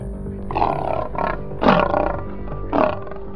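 A lion gives a series of deep, throaty roaring grunts, four rough bursts rising and falling with the loudest in the middle, close and powerful against a low rumbling background.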